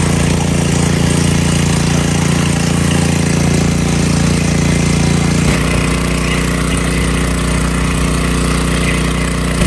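A small eBay-bought gas motor runs steadily close by, a constant loud rattling drone that shifts to a slightly lower pitch partway through.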